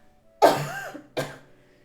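Two harsh, close coughs, the first longer and raspier, the second shorter after a brief pause, in an otherwise quiet room.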